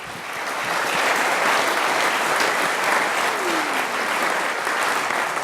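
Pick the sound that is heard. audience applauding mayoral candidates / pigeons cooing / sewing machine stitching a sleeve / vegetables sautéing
audience applauding mayoral candidates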